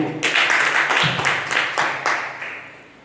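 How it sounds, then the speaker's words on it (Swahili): A crowd claps together in a quick, steady rhythm, the claps loud and close, fading slightly toward the end. "Tupigie mama makofi."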